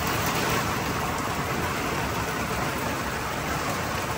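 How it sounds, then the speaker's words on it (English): Heavy wind-driven rain lashing sideways at an outdoor Formula Drift track in Utah: a steady, loud, unbroken hiss from start to finish, with no voices. "It's raining sideways again on us."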